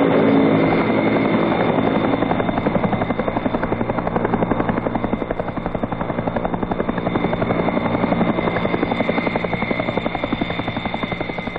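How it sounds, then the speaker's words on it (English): Chinook helicopters of a brigade transport company airlifting artillery guns in Vietnam, a loud continuous rotor drone with rhythmic blade chop holding steady and close throughout. "they're lifted in by Chinook helicopters of the brigade's Tactical Transport Company"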